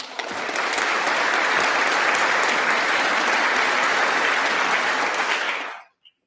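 Loud, full audience applause fills the hall at a church service, a thick, even roar of clapping that sustains strongly before cutting off abruptly into silence.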